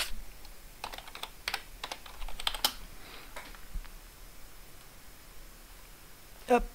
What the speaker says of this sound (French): Voilà le clavier japonais.